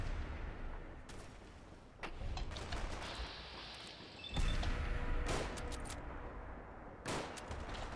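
Gunfire during VATS targeting in Fallout 4, with sharp bursts and booms over a busy game soundscape, the loudest hits coming near the middle and end.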